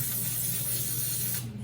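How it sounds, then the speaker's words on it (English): Cleaner hisses from a spray can onto a Case 188d tractor power steering pump in one continuous close burst that cuts off near the end. "spray it all off"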